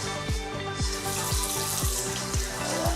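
Lukewarm tap water runs steadily from a faucet into a sink for washing the face, a loud, close, continuous splashing rush with no voices.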